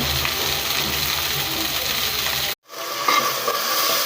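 Fried fish sautéing in a pan for a Bengali bhuna, with a steady close sizzle and stirring scrapes throughout and a brief cut in the sound near the end.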